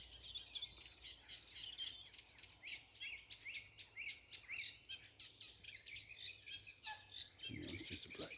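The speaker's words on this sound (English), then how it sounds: "I think that was just a black cap." A blackcap sings in a garden with bramble, bright chirping phrases repeating steadily against other birdsong and faint insect buzz, with a short low thump near the end.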